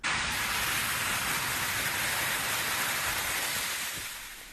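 Heavy rain and strong wind in a storm near Phoenix, Arizona, with flooding nearby, roar as a dense, steady wash of noise that holds loud throughout and eases slightly at the end.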